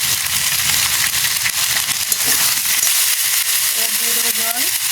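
Chopped tomatoes sizzle and crackle steadily in a hot pan, a loud, continuous frying hiss, with a voice briefly speaking near the end.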